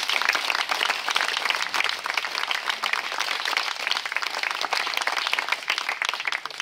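Sustained warm applause from an outdoor free jazz concert crowd for the sound engineer, a thick wash of many clapping hands at an even level from start to finish, with no talking.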